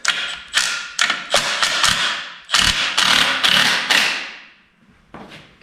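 Bolts on a 4L80E transmission being snugged up during a 5.3 engine swap into a C10, heard as a string of close, sharp metallic thuds and ratchet-like knocks in irregular bursts, with a brief pause near the end.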